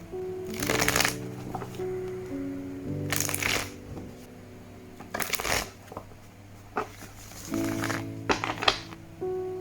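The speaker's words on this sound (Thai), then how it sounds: "เดี๋ยวจะสับไพ่แล้วก็จะเริ่มดูกันเลยนะครับ" Tarot cards being shuffled in several quick riffling bursts over soft background music, close and fairly quiet, with no talking.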